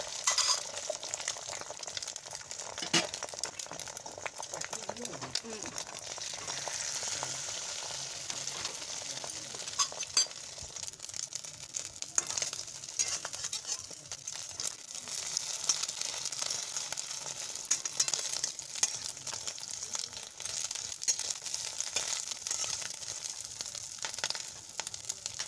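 Egg omelette frying in a pan for a home lunch, a steady soft sizzle running throughout with occasional faint stirring scrapes, fairly quiet and without any talk.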